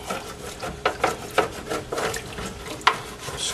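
Deglazing a stock pan on a center stove burner while making beef stock: liquid sizzles and bubbles as a utensil scrapes the pan bottom in short irregular strokes, close and moderately loud.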